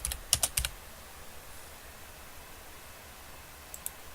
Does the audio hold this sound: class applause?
no